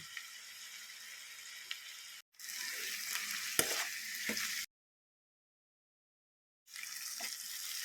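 Carrot fry stirred in a hot pan, a steady close sizzle with scraping stirs, broken by a brief pause and a longer stretch of silence before the sizzling resumes.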